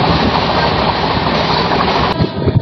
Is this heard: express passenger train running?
yes